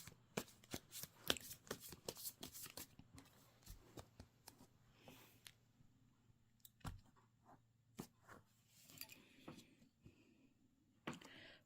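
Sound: shuffling tarot cards

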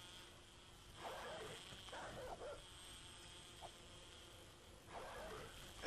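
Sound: dogs in the video game 7 Days to Die

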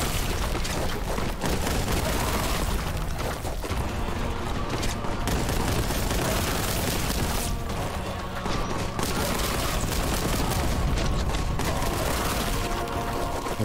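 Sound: gunfire and explosions in video game Warhammer 40,000 Boltgun

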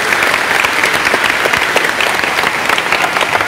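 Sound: church congregation applause

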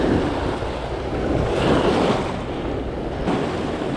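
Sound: choppy ocean waves hitting the shore

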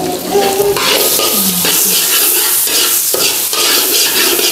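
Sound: sautéing onion in butter

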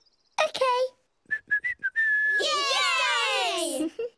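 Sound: referee whistle

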